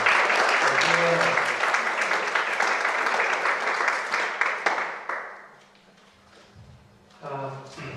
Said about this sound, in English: Big applause for Mateja and Nelson.